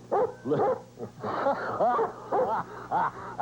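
Two friendly police dogs bark and yip in quick repeated bursts, close and loud, with whimpering, high-pitched barks running through the whole stretch.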